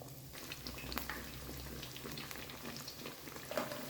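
A bread sandwich frying in hot ghee in a pan, giving a steady soft sizzle and faint crackle throughout, quiet and close with no voices.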